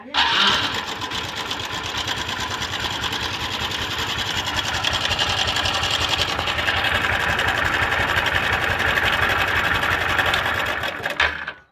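An engine with a loose timing chain idles steadily with a fast, rattling metallic clatter running through it, close and loud, for several seconds before cutting off.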